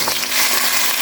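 Chopped onion fries in a pot of hot oil with garam masala, a dense, loud, unbroken sizzle heard up close.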